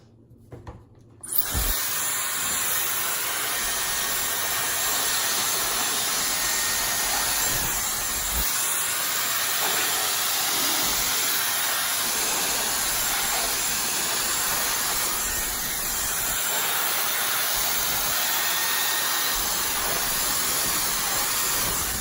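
A Dyson Supersonic hairdryer switches on abruptly and blows a loud, steady airy whoosh close by as hair is dried, with faint rustles of hair and brushing throughout.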